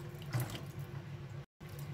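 Water streams into a cooking pot of carrots and peas for a green peas kurma, a soft, steady pouring splash heard close and quietly, cut by a brief gap before it resumes.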